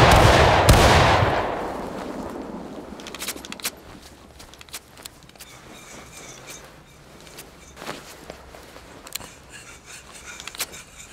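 A rank of muskets fires a single thunderous volley in War of Rights, a big crashing blast that rolls away into echo, followed by scattered faint pops and clatter.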